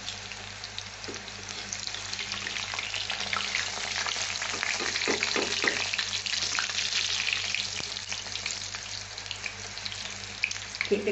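Nimki frying in hot oil until light golden makes a dense, continuous bubbling sizzle that swells slightly midway, with occasional faint stirring clicks, close and steady, no talking.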